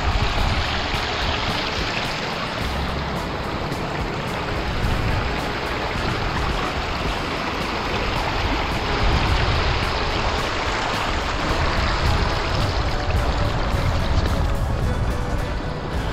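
A wild river in Santa Cruz rushes steadily at a crossing point, a dense, continuous wash of flowing water close by with no letup and no voices.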